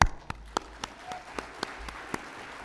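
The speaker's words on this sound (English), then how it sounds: "I think that you should give applause to yourself right" A conference audience claps sparsely: about nine separate, crisp claps spread out at an uneven pace, fairly faint and thin rather than a full ovation.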